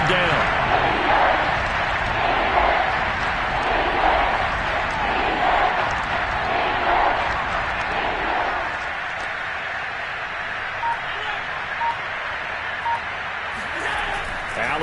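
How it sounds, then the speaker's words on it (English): A football stadium crowd at a Bucs vs Bills game roars in a sustained, dense wash of cheering ahead of a big third down, loud and continuous throughout, easing slightly in the second half. "The crowd getting into it as we come up on a big 3rd down."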